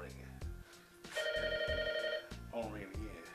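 A telephone rings in a house, a clear electronic ring sounding in two bursts over a thumping musical beat while someone talks.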